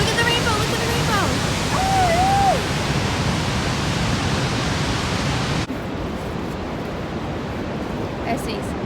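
Niagara Falls roars as a dense, steady wash of falling water, loud and close, with a faint voice briefly audible partway through before the noise drops slightly but continues.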